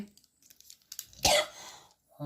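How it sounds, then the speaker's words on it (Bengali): A single harsh cough bursts out, loud and close, between short bits of quiet talk. "কি হলো আবার এই কাশি হয়েছে রে"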